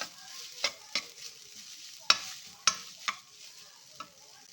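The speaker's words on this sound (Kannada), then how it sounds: "ಇದು ಹಾಕ್ಬಿಟ್ಟು ಸ್ವಲ್ಪ ಫ್ರೈ ಮಾಡ್ಕೊಳ್ಳೋಣ." Ground corn frying in a pan for a vegetable corn soup, a soft steady sizzle broken by about six sharp scraping stirs at uneven intervals, close and fairly quiet with no voices.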